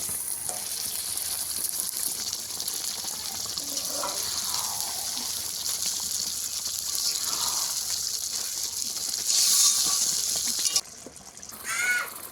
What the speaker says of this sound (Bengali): ছানা ধুয়ে অল্প একটু জল দিয়ে দেবো